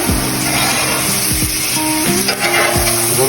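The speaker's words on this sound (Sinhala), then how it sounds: "ලුණු ටිකක් රන්වන් පාට වෙනකන් හොඳට තෙල මේක ටෙම්පරාදු කරන්න ඕනේ" Onions fry steadily in hot oil on the way to golden for saffron rice, a loud, continuous close-up sizzle with faint stirring movements underneath and no voices.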